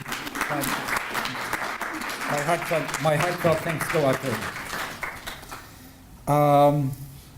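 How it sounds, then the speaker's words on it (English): Applause from a conference audience continues beneath someone speaking, fairly steady and moderately loud, and dies away near the end of the stretch. "So I would like all of us now to give Sona a round of applause."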